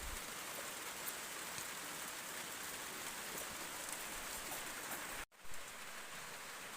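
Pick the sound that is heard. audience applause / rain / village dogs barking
rain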